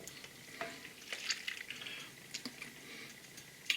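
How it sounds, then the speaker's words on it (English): Hot heavy cream pours onto a bowl of chocolate chips with a soft, faint liquid splash and gentle trickling, close and quiet with no voices. "I'm going to pour the hot cream over my chocolate chips"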